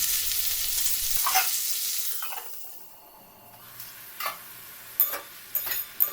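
Pieces of bean hitting hot oil in a pan with salt, a loud sizzle that fades, then light clinks and scrapes of a utensil stirring them, near and without talk.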